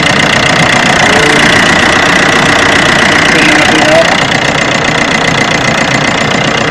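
A van's engine runs steadily after clutch and water pump repair work, a loud, close, continuous idle with a slight knocking rumble and no pauses.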